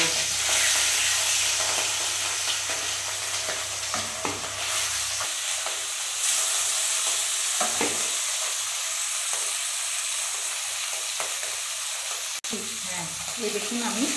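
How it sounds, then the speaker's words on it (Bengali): Hilsa fish pieces fry lightly in hot oil, producing a continuous bright sizzle and hiss up close, with occasional stirring scrapes and a brief sharp click near the end, and no talking. "তেল গরম হয়ে গেছে, এবারে আমি মাছগুলো ছেড়ে দেব।"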